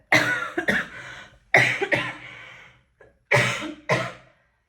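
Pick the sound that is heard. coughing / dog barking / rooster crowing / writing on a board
coughing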